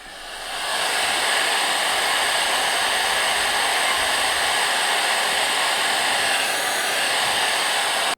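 A Bosch Axial-Glide 12-inch miter saw runs loud and steady for about eight seconds, a constant high whine as it cuts full depth through wood, hooked to a dust collection system, no voices.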